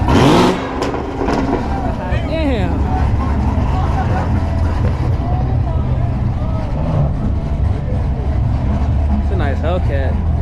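A Dodge Hellcat on fat tires at a TX2K23 night car meet, its engine revving up and falling back in a few rising sweeps over loud steady crowd and traffic noise, with people talking nearby.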